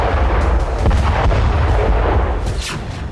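Gunpowder explosions near the Attari border in Pakistan make a loud, continuous rumble of artillery-like blasts, with dense low booms and sharper cracks layered throughout.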